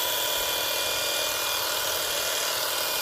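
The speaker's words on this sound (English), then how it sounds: "just trim the grass" A cordless hedge trimmer fitted with a grass trimmer blade cuts grass, giving a steady high, whining buzz that stays even and close throughout, with no talk.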